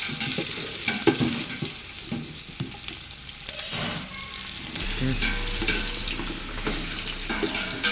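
Four onions sauté in oil in a pan for vegetable kurma, giving a steady close sizzle broken by frequent stirring and scraping.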